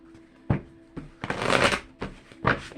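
Tarot cards shuffled by hand in a few separate bursts: short riffling rustles and soft slaps, with one longer, denser shuffle in the middle. Close and fairly quiet, with no talking.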